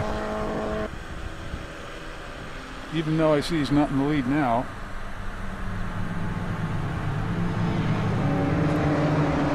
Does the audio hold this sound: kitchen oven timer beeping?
no